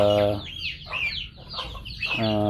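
Chickens being raised naturally give a few short clucks and squawky calls close by, bracketed by a voiced hum, over a quiet farm background.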